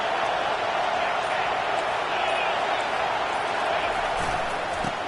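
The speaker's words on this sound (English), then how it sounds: "listen to this crowd just shaking the girders of this place trying to help their defense." A college football stadium crowd roars steadily for its defense in a TCU versus Penn State game, a dense, continuous wall of distant cheering with no breaks.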